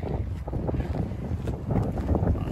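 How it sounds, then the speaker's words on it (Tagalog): Strong, cold wind buffets the microphone outdoors near an empty field in spring, a steady low rumbling roar with gusting surges throughout, and no voices. "Sobrang lakas ng hangin."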